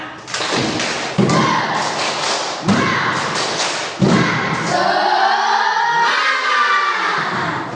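Students in a class perform the tepuk semangat clapping chant, loud unison claps in a steady pattern that give way to a drawn-out, rising group shout of voices.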